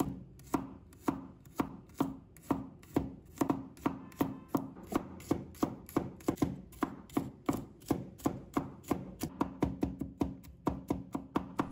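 Garlic being minced with a knife on a cutting board: a long run of sharp, even chops close up, speeding into a quicker rhythm toward the end, with no voices.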